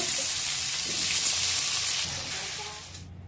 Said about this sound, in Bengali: ওই তেলের মধ্যে আমি লম্বা লম্বা করে রেখেছিলাম আলুগুলো, ওগুলোকে ভেজে নেব